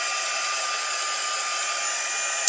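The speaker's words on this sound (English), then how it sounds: "I have the Stampin' Up heat tool, so I'm just going to set it on the lowest" A Stampin' Up heat tool runs on its lowest setting, blowing a steady airy hiss with a constant whine, close and unchanging, ending in a small click.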